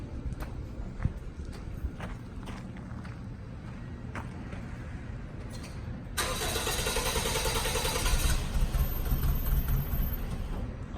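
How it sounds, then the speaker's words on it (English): Toyota Echo engine cranking and catching, a steady low churn that jumps into a louder, brighter running idle partway through, heard close with no talk. "you crank it up and go ahead and back it out a little bit"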